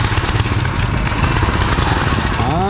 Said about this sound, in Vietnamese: Đó là bây giờ là chạy động cơ xăng này.